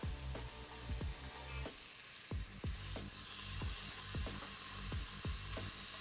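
Beef for pulled beef chili con carne sears in a hot pressure cooker, sizzling loudly and steadily up close, with repeated sharp clicks and pops breaking through the frying hiss.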